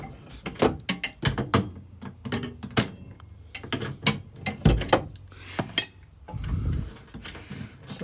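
Screws being backed out of a metal shelf bracket inside a van, a run of sharp ratcheting clicks and metallic turns in short bursts, fairly close, with no talking.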